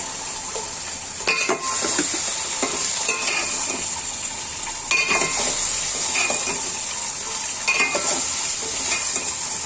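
Cauliflower and potato vegetable fry with cumin and green chilies sizzling steadily in a pan, with several bursts of stirring and utensil scrapes against the cookware, close by.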